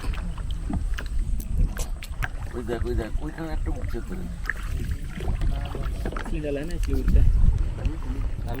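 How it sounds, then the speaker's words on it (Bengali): A rowboat moves back across water in the Mangalajodi wetland bird area, oars and hull making faint splashing and knocking under wind noise, while people talk nearby. "নৌকা এবার পিছু হটছে।"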